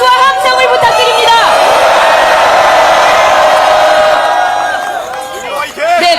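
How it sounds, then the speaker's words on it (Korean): A large crowd at a candlelight rally in front of the National Assembly calling for impeachment roars with cheering and applause, swelling loud for several seconds before fading, with a speaker's voice heard at the start and end. "여러분 다시 한번 큰 박수와 함성을 부탁드립니다"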